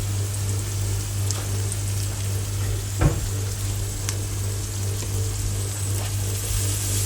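Onions and peppers for egg masala fry in a skillet with spices such as cumin, giving a steady close sizzle with soft crackles. One brief clatter from stirring is the only break, and no one talks.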